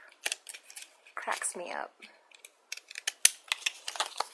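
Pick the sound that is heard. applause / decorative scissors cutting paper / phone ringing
decorative scissors cutting paper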